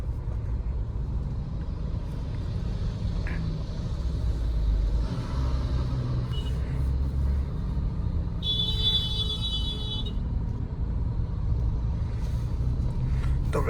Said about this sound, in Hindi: तो गाइस जैसे अभी ओवरटेक करना है अपन को, थर्ड गियर पे गाड़ी है, ये ओवरटेक कर लिया